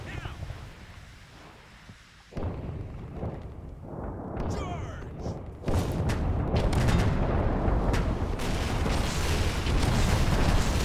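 Battle noise in Fallout: New Vegas with The Frontier mod: lasers, rumbling explosions and sharp bursts build from quiet into a loud, continuous barrage of blasts and crackling.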